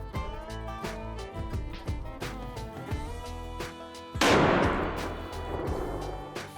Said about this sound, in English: I'm gonna shoot a TSS this time